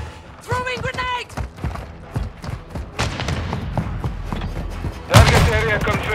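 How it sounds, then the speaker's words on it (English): Combat bursts in Call of Duty: Modern Warfare II, with thuds and gunfire-like impacts scattered throughout and a loud blast near the end, while voices shout callouts. "Throwing grenade!"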